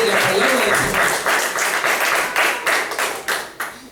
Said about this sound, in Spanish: Denle un aplauso al Señor porque podemos entender la palabra del Señor.